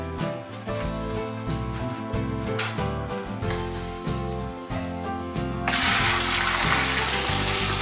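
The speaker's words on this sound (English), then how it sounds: "So I'm gonna pour the hot stuff in the bucket," Hot dissolved homemade laundry soap mixture poured into a bucket, a loud rushing splash arriving in the last couple of seconds over steady background music.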